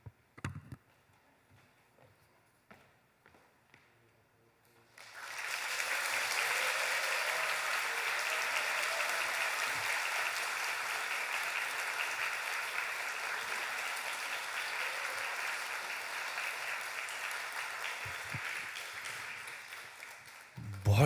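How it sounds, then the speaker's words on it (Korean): Loud, sustained applause from a church congregation at a Sunday service, rising sharply after a quiet start and holding steady for about fifteen seconds as a dense wash of clapping. "함께 인사할 때 큰 박수로 함께 해주시기 바랍니다"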